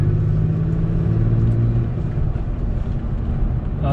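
A deep, steady engine rumble through a TRD aftermarket exhaust on a second-generation Toyota Tacoma pickup, with a throaty low drone, loud and close, holding a constant idle throughout with a slight gust of wind near the end.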